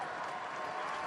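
A tennis crowd at the Australian Open in Melbourne applauds, a brief, dense wash of clapping at even loudness.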